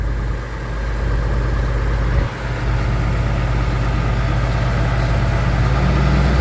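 Farm tractor running the PTO-driven pump of a 60 ft Brandt sprayer, a steady deep engine drone with a constant mechanical hum, close and unbroken throughout.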